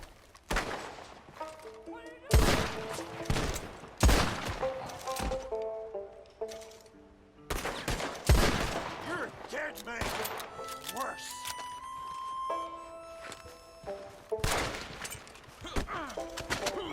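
Gunshots in the Western game Red Dead Online while clearing out the last of a gang, several loud booming shots spaced across the stretch among game sounds and music, with a voice talking between them.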